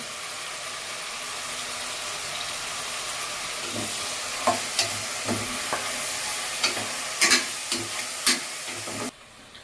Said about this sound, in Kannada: ಅರ್ಧ ಕೆ ಜಿ ಚಿಕನ್ನ ಆ್ಯಡ್ ಮಾಡಿಕೊಂಡು ಸ್ವಲ್ಪ ಫ್ರೈ ಮಾಡ್ಕೋಬೇಕು